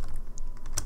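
Footsteps crunching across sand in Minecraft, a quick series of soft gritty steps close by with one brighter step near the end, heard alone.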